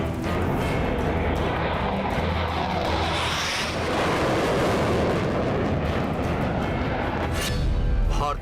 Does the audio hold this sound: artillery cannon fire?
yes